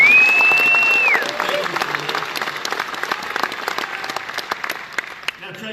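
Audience applause at the SEMA 2018 live show in Las Vegas, steady crowd clapping lasting several seconds, with a whistle near the start before gradually thinning out.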